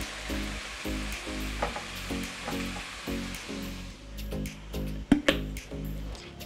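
Cooked zucchini stirred in a hot pan as salt goes in: a soft, low sizzle with repeated rhythmic scraping and clattering of the utensil, then a few sharper knocks near the end.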